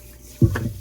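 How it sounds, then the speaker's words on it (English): Hot water poured into a KitchenAid stand-mixer bowl for rinsing, a sudden close splash that settles into a short running gurgle. "I'm gonna put some hot water in it"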